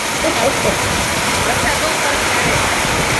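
Heavy monsoon rain pours down in a dense, unbroken hiss in a residential society in Porbandar, loud and even from start to finish.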